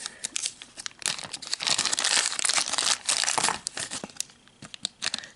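A small plastic bag is crinkled and rustled close by, with dense, continuous crackling in bursts over several seconds and no talking.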